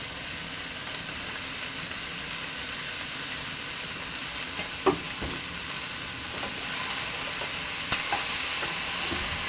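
Mixed vegetables with chopped celery sautéing in a pan, a steady broad sizzle throughout with occasional soft clicks and scrapes from stirring.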